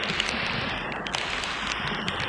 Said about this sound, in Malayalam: പെരുമഴ പെയ്യാണ്